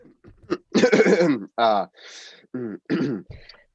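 A man clears his throat and coughs in short, gruff bursts during a live stage performance of a radio play.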